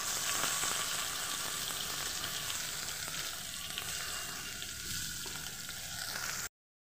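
Spice paste hits hot mustard oil in a pan for a small-eggplant dish and sizzles steadily and close, a bright continuous hiss with slight swells before it cuts off abruptly.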